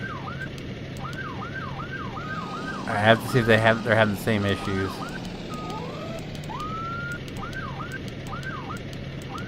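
Emergency vehicle siren in the FS:911 firefighting game, a Duggan Hills fire company scene, wailing in rapid repeating sweeps throughout, with someone talking briefly over it midway.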